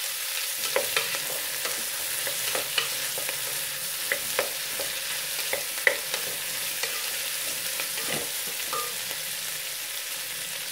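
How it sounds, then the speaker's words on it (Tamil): Red and green chillies sauté in a pan with a steady soft sizzle, broken by intermittent scraping clicks as they are stirred, close and fairly quiet, without talk. "இதை கொஞ்சம் நேரம் வதக்கலாம்."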